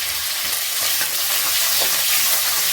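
A handful of small onions fry in hot oil for bitter gourd sambar, giving a loud, dense, unbroken sizzle up close with faint stirring beneath.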